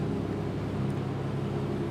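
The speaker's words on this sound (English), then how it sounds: "The hum of two V12 engines." Two Aston Martin V12 engines hum low and steady nearby, a smooth, unbroken rumble with no voices over it.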